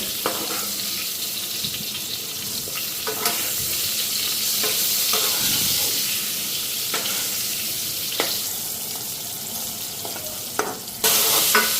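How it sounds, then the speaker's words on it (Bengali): Bitter gourd slices fry in hot oil in a pan, giving a steady close sizzle throughout with occasional soft clicks and stirring scrapes. "এইদিকে চিতা করলা ভাজাটা বসাই দিলাম"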